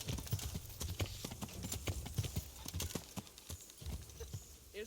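Horse hooves clip-clop at a steady trot in the video game Kingdom Come: Deliverance, fairly quiet and continuous, with no talk over them.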